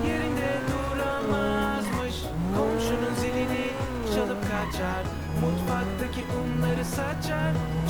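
A race car in a racing video game approaching a ramp, engine whining and shifting pitch with tire squeals, under continuous game music and effects.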